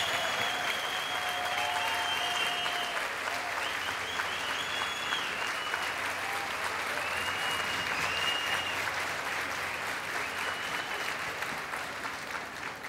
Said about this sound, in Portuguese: Obrigada por esses aplausos, por essa energia, por esse carinho.